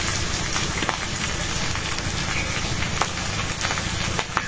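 Onions and green chilies frying in hot oil in a home kitchen, a dense steady crackling sizzle heard up close with scattered sharper pops.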